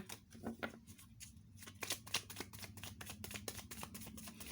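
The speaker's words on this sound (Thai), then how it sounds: "อันนี้เปิดไพ่ขยายให้นะ" Tarot cards being dealt and laid out for a reading, producing a run of quick, soft card slaps and shuffling rustles, close and fairly quiet, with no voice.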